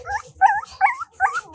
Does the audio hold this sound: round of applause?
no